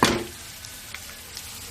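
Ground green paste frying in a pan for bitter gourd fry, a sharp sizzling burst at first that settles into a steady quieter crackle with a few faint stirring clicks, no voices.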